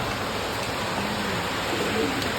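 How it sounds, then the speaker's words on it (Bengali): Heavy rain pours steadily, a dense, even hiss that fills the space without pause, close and loud. "বৃষ্টি তো ভালোই জোরে পড়ছে"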